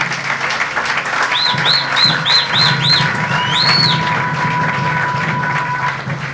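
A church congregation applauds and acclaims in a steady, full wash of clapping, with bird calls and cooing sounding on top partway through.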